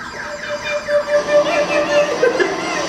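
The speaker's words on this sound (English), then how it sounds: "Super serious alarm" A loud, rising and falling electronic siren wails continuously, close and insistent, with no voices.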